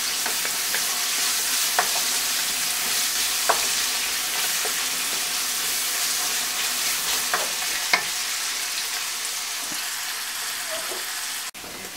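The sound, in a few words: onion and garlic frying until golden brown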